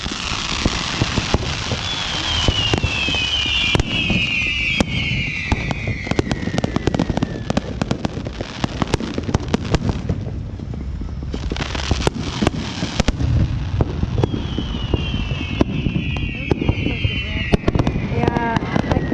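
Fireworks burst in repeated loud cracks and booms, with whistling rockets rising and a steady crackle between blasts, while people talk nearby throughout.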